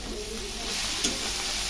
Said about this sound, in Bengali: এখন উস্তাটাকে ভেজে নেব।